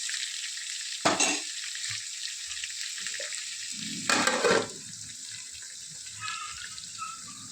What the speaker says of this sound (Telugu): వెల్లుల్లి రెబ్బలు వేసి బాగా కలపాలి. బాగా వేగనివ్వాలి ఈ దీన్ని 2 minutes.